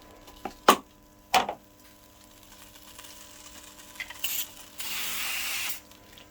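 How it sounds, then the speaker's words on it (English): A short hiss of canola oil aerosol spray onto dried fish, lasting over a second, preceded by a few sharp clicks and knocks nearby; no talking. "So just spraying the fish with"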